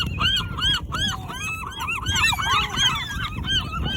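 A dense flock of gulls squawks and cries continuously over thrown chicken, many overlapping calls close by, with a faint wash of background noise beneath.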